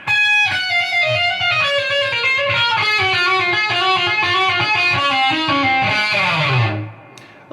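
A distorted electric guitar runs through a fast legato passage from a solo, a dense stream of rapid flowing notes ending in a quick fade, loud and close without speech.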